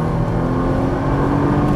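A Nissan GT-R pulls hard on a racing circuit, a loud, close, steady engine roar under throttle with a strong low hum running through the short stretch, no voices.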